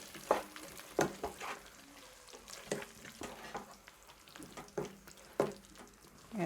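Boiled beef cooks in a pan for matoke, giving a quiet, low sizzle broken by several sharp scraping stirs and knocks of a spoon at irregular intervals, with no talking.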